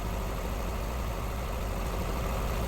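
A Lexus LS460 engine idles at operating temperature, a steady, even broadband hum with no change in pitch or rhythm, close and alone.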